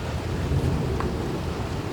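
Rain beginning to fall outdoors with wind during chainsaw work: a continuous broadband hiss and low rumble of gusts that stays fairly even across the short stretch, with no voices.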